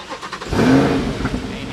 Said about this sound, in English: Oh, yo, this shit should scream though. So it's a V8, if you don't know what it is. Engine in the back.